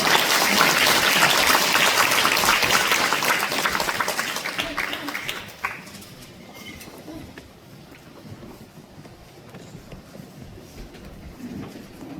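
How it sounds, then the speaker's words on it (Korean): Applause from an audience in a hall greets a singer coming on stage at a memorial evening, loud and dense for about five seconds, then thinning into scattered claps and murmuring room noise. "큰 박수로 맞이해주세요"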